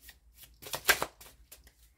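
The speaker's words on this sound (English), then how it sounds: "Let me continue to keep shuffling" Tarot cards being shuffled by hand, a few soft riffling bursts and slides close by, quiet and brief with no talking.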